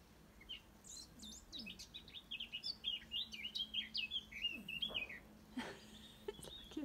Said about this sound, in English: I can't believe how loud those birds are.